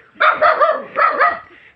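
A fierce house dog guarding a rural mountain home gives two quick pairs of loud, close barks, then a softer trailing bark.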